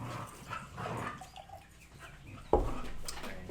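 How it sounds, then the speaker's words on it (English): Dogs fighting outside, with barks, growls and whimpers heard at a distance, fairly faint, plus one sharper bark near the end. "you're going to hear the dogs out there fighting."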